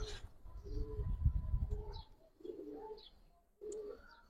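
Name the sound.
Giribaz pigeons cooing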